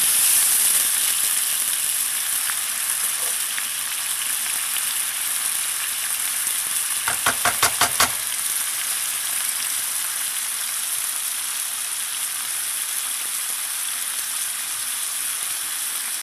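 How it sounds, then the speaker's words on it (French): White wine is poured into a hot pan over high heat while making a mushroom tartiflette, giving steady, loud sizzling and bubbling with a brief burst of rapid ratchet-like clicks midway. No one speaks. "on vient déglacer avec du vin blanc. Et là, on va laisser réduire environ 3-4 minutes"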